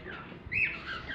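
White-face cockatiel giving a single shrill squawk with a rising-falling sweep, moderately close over a quiet room background.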